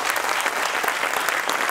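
A crowd claps after Mayor Fisher's announcement of a $30 million indoor track and field development, a short burst of steady, dense applause.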